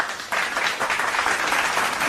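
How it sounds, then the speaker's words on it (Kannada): A crowd of people clapping steadily and fairly close, with a dense run of hand claps that holds for about two seconds and no talking over it. "ಚಪ್ಪಾಳೆ ಹೊಡಿರಿ"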